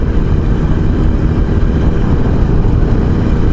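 A 25-year-old Jawa 350 TS two-stroke motorcycle engine runs close by, a loud, dense, steady drone with no clear revving or pauses.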